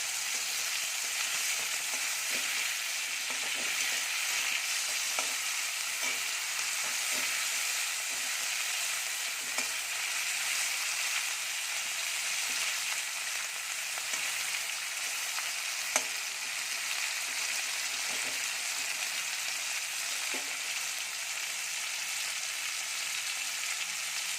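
Shrimp and chopped vegetables fry together in a pan, a loud continuous hiss and crackle of hot oil running steadily throughout with faint occasional clicks and no talking.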